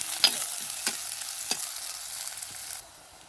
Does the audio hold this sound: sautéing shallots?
yes